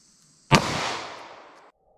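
A single loud gunshot from a short-barrel handgun firing Sig Sauer V-Crown ammunition into a gel gut-shot simulation, a sharp close crack followed by a long decaying echo over about a second.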